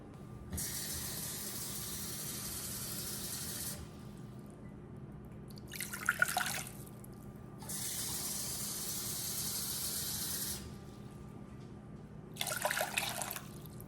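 Water runs from a tap in two long streams, with pouring and splashing between them as water is measured out in a kitchen, close by and steady.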